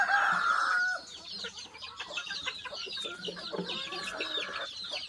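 Chickens cluck and call repeatedly nearby, a rooster-like crow rising at the start, with faint background noise and no clear talking.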